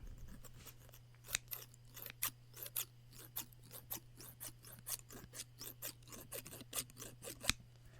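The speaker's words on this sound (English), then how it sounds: "And I have a pair of scissors." Scissors snipping in a steady run of sharp, crisp cuts, close up, with a low electrical hum underneath and no talking.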